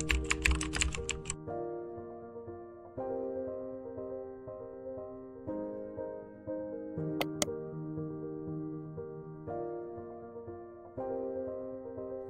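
A quick burst of computer keyboard typing, close and clicky, fills the first second or so and then gives way to steady background music with no talking.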